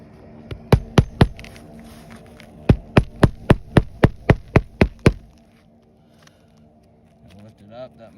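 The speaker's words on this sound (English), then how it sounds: "get a hammer in there to hammer the nail" Sharp, ringing hammer blows drive nails into a roof in two bursts, three quick hits then about ten evenly paced strikes, close and loud, followed by quiet shuffling.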